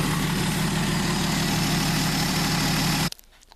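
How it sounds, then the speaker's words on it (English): A Slant Six car engine idles with a steady, loud low rumble that holds even for about three seconds, then cuts off abruptly and leaves near silence. "Let me turn the car off."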